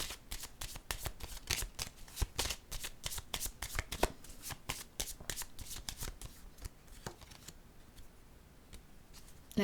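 Oracle cards shuffled for a reading, a close run of rapid, crisp flicking riffles in a steady rhythm that thin out and fade near the end.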